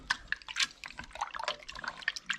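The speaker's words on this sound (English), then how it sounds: "we'll give it another wash" Running water splashes and drips while an octopus is washed and rinsed by hand in a sink, a faint, irregular patter of small splashes.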